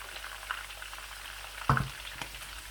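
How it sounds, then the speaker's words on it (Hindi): Garlic fries in hot oil, a faint steady sizzle with a louder stir or clatter near the end, and no talking. "ऑयल गर्म हो तो बहुत जल्दी लहसुन जो है वो पक जाता है"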